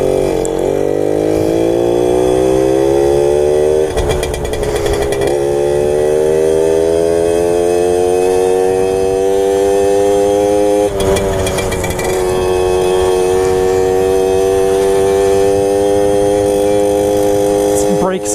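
A Suzuki JR50 small single-cylinder motorcycle engine runs loud and close, lugging low with almost no torque and then rising steadily in pitch as it picks up, with the rider's voice talking over it in places.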